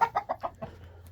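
Rooster in a backyard coop clucking in a quick run of four or five short close calls, then quieter low murmuring, with no talk.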